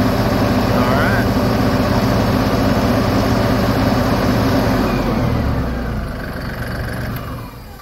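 LS XR4145 tractor engine, with its crankshaft sensor newly replaced, idles steadily and close by with an even, smooth hum, then softens slightly toward the end.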